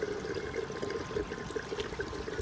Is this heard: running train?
no